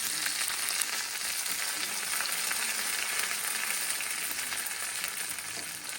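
Urad dal frying in hot oil for a tempering while making sambar, a steady, bright sizzle and crackle held at an even level throughout, close up with no voices.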